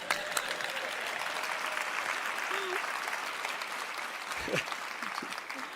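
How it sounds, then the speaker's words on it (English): Audience applause at a live SIGGRAPH event, steady dense clapping that fills the whole stretch at moderate level, with a few faint voices mixed in. "Hey, little applause, you guys."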